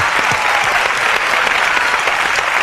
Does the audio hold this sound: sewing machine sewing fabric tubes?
no